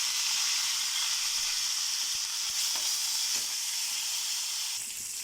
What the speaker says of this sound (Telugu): ఎండుమిర్చి అండ్ ఎల్లిపాయ వేసి కొంచెం దూరగా వేయించుకోవాలి